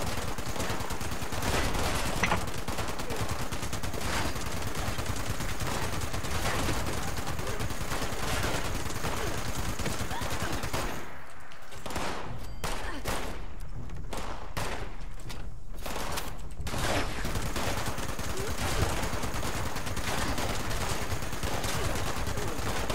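Sustained .50 cal machine gun fire in a video game, a dense, continuous roar of rapid shots at constant loudness, broken only by a short, patchy lull partway through before the firing resumes.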